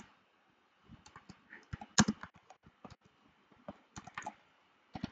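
Quick irregular clicks of computer keyboard typing while writing in a Google Docs document, close and crisp, with short pauses between bursts and no talking.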